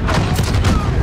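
Dense, continuous burst of light machine gun fire in a shooter video game at a smoky shoot house, rapid booming shots rolling together loudly over one second with no pauses.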